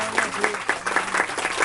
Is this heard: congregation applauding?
yes